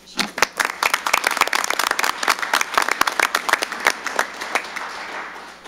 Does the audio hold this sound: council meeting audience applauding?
yes